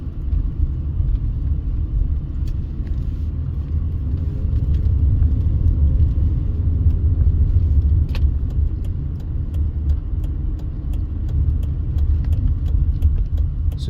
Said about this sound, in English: drive down Park Street just one more time